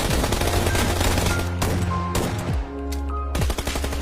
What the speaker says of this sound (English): This is how to actually use a shotgun.